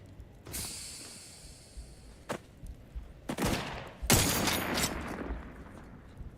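Gunfire from the player's weapon in the video game Outer Worlds 2: several sharp bursts, with one near 2.3 seconds, a heavier run from about 3.3 seconds and a loud salvo around 4.1 seconds, over a steady bright hum.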